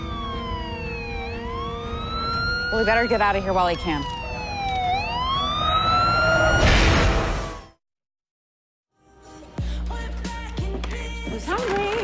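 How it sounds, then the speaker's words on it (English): Police and fire sirens wail in rising and falling sweeps, growing close and loud over a passing vehicle whoosh, with people talking over them before a brief cut to silence and muffled speech. "Sirens are getting louder."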